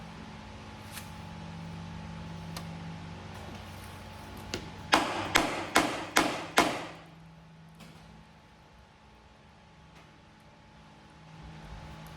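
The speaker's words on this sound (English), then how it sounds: "I can hear the silicone popping in there." A quick series of five sharp cracking pops close by as silicone is chiselled on an engine, over a faint steady background hum.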